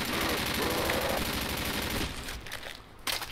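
Rapid automatic gunfire from a custom zombie map video game, loud and dense for about two seconds before cutting out into quieter scattered game sounds.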